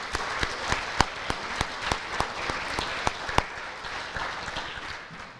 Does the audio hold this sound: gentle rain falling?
no